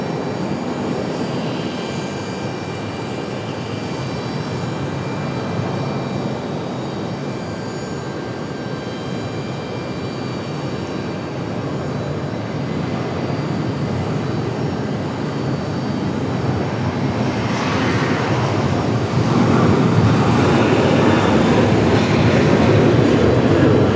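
Jet airliner engines roar loud and continuous on runway 5 left at Raleigh-Durham International Airport, swelling slightly louder toward the end as the aircraft powers up.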